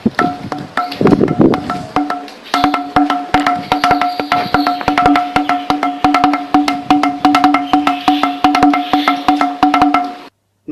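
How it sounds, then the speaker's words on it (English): A stone musical pillar in an ancient temple tapped rapidly in a steady drum-like rhythm, dense repeated knocks with a ringing tone, continuing for about ten seconds without speech. "if you tap this, you will hear the sound of these drums"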